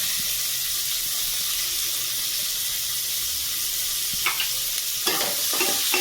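Chopped onion hits hot oil tempered with black cumin and fenugreek for a bitter gourd and tengra fish curry, producing a loud, continuous hiss and sizzle, with scraping stirs near the end and no talk.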